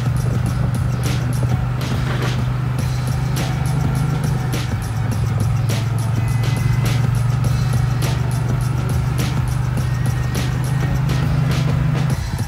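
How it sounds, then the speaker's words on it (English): A car rolls slowly through a Chevrolet dealership's used-car lot, a low steady engine hum running underneath with scattered light ticks and clicks throughout. "As you can see, we're driving through our lot here."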